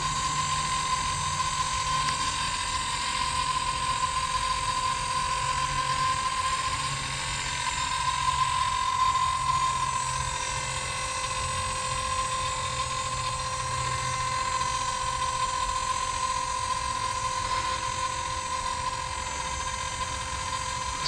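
A Blade 230s V2 RC helicopter hovers in a backyard with a steady, close, high-pitched rotor and motor whine that holds level tones throughout, rising and dipping slightly as it is adjusted.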